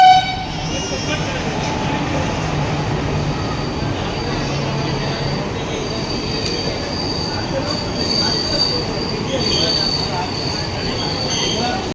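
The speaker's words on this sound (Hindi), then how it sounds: "ट्रेन आ गई है तेजस एक्सप्रेस" The Tejas Express pulls into an Indian railway station with continuous loud rumbling of wheels and carriages, high metallic squealing of brakes or rails, and station crowd noise and voices mixed underneath.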